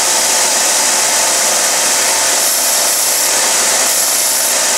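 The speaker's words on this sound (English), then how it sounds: "I immediately take it to my little belt sander. Square up the ends." A small belt sander squares the ends of a metal piece for a model steam engine build, giving a loud, close, continuous abrasive roar that holds steady throughout.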